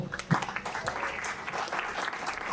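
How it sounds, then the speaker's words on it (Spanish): An audience applauds a pianist at a live evening show, steady dense clapping filling the short span at a fairly even level, with a voice faintly audible beneath it. "dándole un fuerte aplauso a nuestro amigo pianista"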